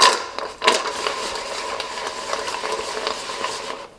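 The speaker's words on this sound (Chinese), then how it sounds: "放入晾凉的江米条，把火关掉，煎匀，让每个江米条都裹上糖液。" Glutinous rice sticks being stirred in a pan of hot sugar syrup with the heat switched off, giving a steady, close scraping and rustling with a few sharper knocks of the spatula.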